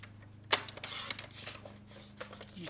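Cardstock being cut on a paper trimmer while an easel card is made, with a sharp slicing snap followed by softer scraping and clicking handling sounds over a faint low hum.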